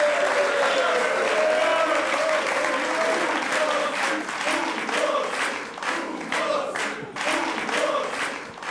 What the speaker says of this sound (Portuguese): este golo merece palmas do público que está aqui nos estúdios.